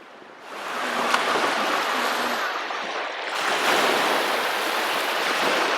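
Waves wash onto an empty beach at sunrise, a broad steady hiss of surf that swells and eases, with some wind buffeting the microphone and no voices.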